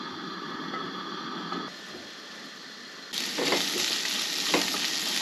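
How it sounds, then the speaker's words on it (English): Onion fries in olive oil in a pot in a van kitchen, a close, steady sizzle and crackle that jumps louder partway through as the pieces are stirred. "So we're gonna get the onion cooking first"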